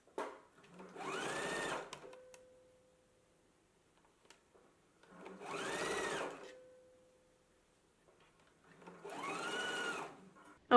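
Domestic sewing machine basting a garment seam in three separate bursts of rapid whirring stitching, each about two seconds long, close and clear, separated by quiet pauses with small clicks.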